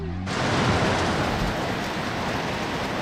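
Heavy rain roars steadily after an abrupt start, a dense continuous hiss with no voices.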